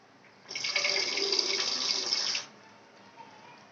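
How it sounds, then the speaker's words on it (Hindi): Water poured into a simmering pot of Mumbai-style misal curry, a steady close-up splashing pour lasting about two seconds, then fading to quiet kitchen background with no talking. "मैं इसमें और थोड़ा पानी डालने वाली हूँ।"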